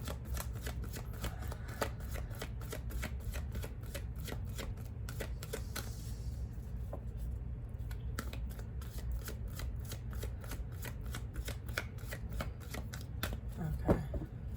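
A deck of oracle cards is shuffled continuously for several seconds, producing rapid riffling flutters and soft slaps close by, fairly quiet with no one talking.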